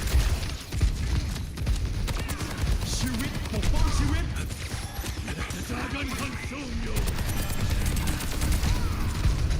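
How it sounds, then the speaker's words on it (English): Rapid gunfire and weapon effects from Overwatch 2 gameplay, dense and continuous with crackling impacts and mechanical clatter throughout, mixed with other game sounds. "Accidentally shooting the poo-poo tree."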